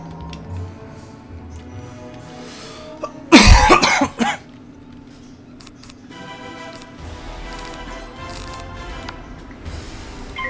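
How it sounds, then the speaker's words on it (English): A gamer coughs hard during a Wizard101 session, one loud burst of about a second that stands out over quiet game music and ambience. "sorry for coughing so much"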